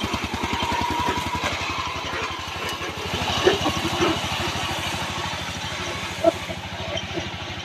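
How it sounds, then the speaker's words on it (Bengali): The engine of a 24-year-old Saifeng-company vehicle idles steadily up close, with a fast, even low thumping and a faint clatter over the whole stretch and no talking. "ইঞ্জিনের অনেক সুন্দর সাউন্ড। তো গাড়িটা দেখেন এখনো পর্যন্ত কেমন চলে।"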